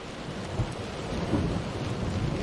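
Steady rain pouring in the video game Close to the Sun, a continuous soft hiss and patter with a low rumbling undertone, fairly faint and unbroken, with no voices.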